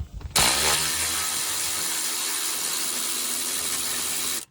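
A power tool, likely an impact gun, runs in one continuous loud whirring burst of about four seconds as 13mm exhaust manifold bolts come out of a Gen V LT engine.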